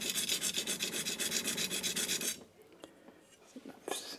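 A knife blade rasps back and forth on a King G-45 220 grit whetstone in steady, rhythmic strokes for about two seconds, then stops, leaving a few faint taps and a quiet scrape.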